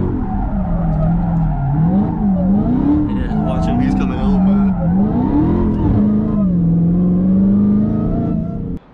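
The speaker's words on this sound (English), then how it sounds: "I showed you guys how to do donuts." A car spins donuts with its tires sliding, a loud continuous engine drone rising and falling as the tires squeal and scrub across the surface, close by throughout and fading out at the end.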